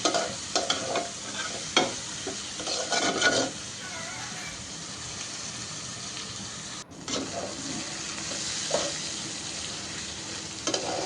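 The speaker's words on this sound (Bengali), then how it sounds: "এখন এটা ভাজা ভাজা করে নিব" Potatoes and chicken sizzling in a hot pan while being tossed and stirred, with scraping bursts early on, a brief break, then steady frying hiss.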